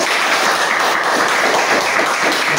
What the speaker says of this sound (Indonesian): Ya, tepuk tangan untuk ini.